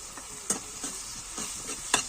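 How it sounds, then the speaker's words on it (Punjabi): Masala with softened tomatoes and Kashmiri red chilli is stirred and fried in oil for eggplant bharta, with a steady sizzle broken by several distinct spoon scrapes against the pan. "ਜਦੋਂ ਤੱਕ ਆਪਣਾ ਮਸਾਲਾ ਤੇਲ ਨਹੀਂ ਛੱਡਦਾ ਉਦੋਂ ਤੱਕ ਆਪਾਂ ਮਸਾਲੇ ਨੂੰ ਭੁੰਨੀ ਜਾਵਾਂਗੇ"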